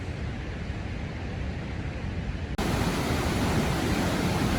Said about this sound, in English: That sound you hear in the background is the waterfall.